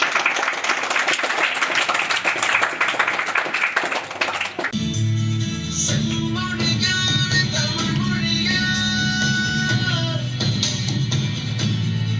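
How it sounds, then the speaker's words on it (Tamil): An audience at a Republic Day celebration in a government school for the blind claps to welcome a guest, dense applause that breaks off partway and gives way to music with a steady tone. "நம் கைத்தட்டி வரவேற்கிறோம்"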